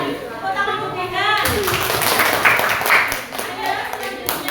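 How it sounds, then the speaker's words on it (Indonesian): Children clap in a classroom, a dense, continuous round of applause beginning softly and swelling into steady clapping, with voices mixed in. "Kemudian tepuk tangan untuk Dina."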